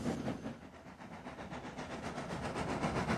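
A steam engine puffs along steadily, its rhythmic chuffs and rolling clatter close and continuous, with no voices over it.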